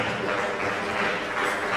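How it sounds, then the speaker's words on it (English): Audience applause at a conference panel on women in AI, a soft, steady wash of clapping from a moderate distance with no voices over it. "Put your hands together."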